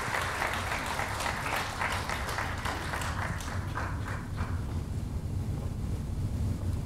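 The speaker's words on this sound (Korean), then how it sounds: "큰 박수로 맞이해 주시기 바랍니다" An audience at a social welfare policy presentation event for Yongin mayoral candidates claps steadily, a dense sustained round of applause that fades gradually toward the end.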